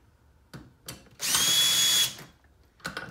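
An electric drill whirs at full speed in one steady burst of just under a second, with soft clicks and handling noises before and after.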